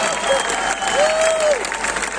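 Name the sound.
audience applause at concert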